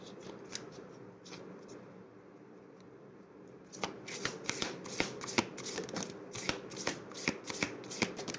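Oracle cards are shuffled during a tarot reading, first as soft continuous riffling, then as a run of quick, crisp card snaps and flicks close to the microphone, with no talking.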